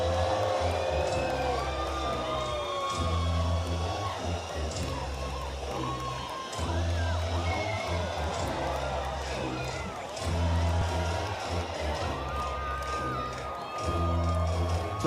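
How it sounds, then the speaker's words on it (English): Spectators at the Huntington Beach men's beach volleyball final on the AVP Tour cheer and clap in a broad, distant wash, with pulsing low rumble and talk over the top. "Crowd is fired up for this one"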